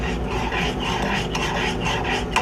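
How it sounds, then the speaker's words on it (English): Coffee grounds being stirred in a pot, a continuous scraping, rasping swirl close by that keeps a steady level, with no talk. "So I'm going to stir this now."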